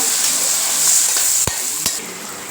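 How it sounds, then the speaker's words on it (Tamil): Onions and garlic sauté and sizzle in hot oil in a pan for a Tamil garlic kuzhambu, with a steady close frying hiss and two sharp stirring scrapes. "வெங்காயம் பூண்டு நல்லா வதங்கணுங்க"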